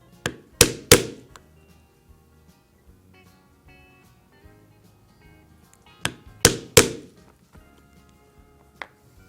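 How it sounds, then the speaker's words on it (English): A steel chisel punches stitching holes in leather for a folding knife sheath, coming as two sets of three sharp mallet-struck thunks separated by a quiet pause, close and loud with no talking. "Now we will take our chisel again and we'll punch right where those marks are."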